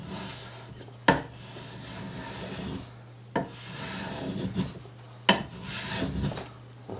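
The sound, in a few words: homemade block plane shaving wood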